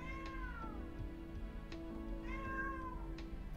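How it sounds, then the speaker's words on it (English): A domestic cat meows twice, each a clear rising-then-falling cry, fairly close and alone without any talking. "This is what cats sound like."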